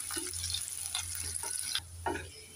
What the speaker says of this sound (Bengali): এবার নেড়ে চেড়ে পেঁয়াজটাকে আমি লাল করে ভেজে নেব।